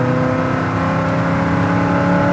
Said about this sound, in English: Look at that transmission, man. That thing shifts smooth.